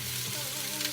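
Sour plum chicken wings with garlic pan-fry inside a Noxxa pressure cooker, giving a continuous close sizzle over a low steady hum.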